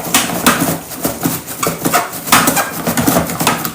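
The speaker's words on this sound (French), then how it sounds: "je vais venir juste découper un peu d'oignon que je vais utiliser avec ma viande" Onion being cut with a knife on a board for a stuffed roast chicken dish, giving a steady run of close, loud chopping knocks and clatters with no talking.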